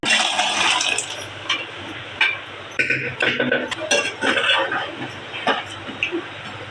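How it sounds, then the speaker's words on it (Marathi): Water splashes and trickles into a cooking pot of chickpea curry, with clinks of metal and a steady running-water hiss throughout. "थोडं पाणी अजून टाकायचं आपल्याला"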